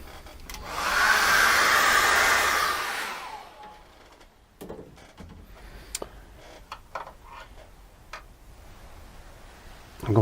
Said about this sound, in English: What I need to do now is dry that with a hairdryer.